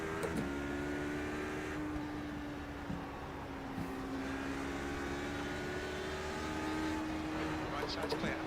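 LMP2 race cars lap Watkins Glen in iRacing, a continuous engine whine with stepped pitch shifts through gear changes, heard from the cockpit under occasional talk.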